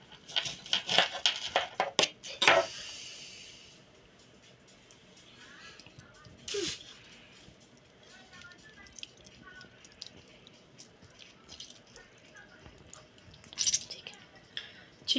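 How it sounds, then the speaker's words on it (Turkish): Half a lemon is squeezed into grape vinegar for a red cabbage pickle, giving a close, wet squish with juice dripping and pattering in short bursts, then quieter handling noises. "Limonun yarısını kullanacağım."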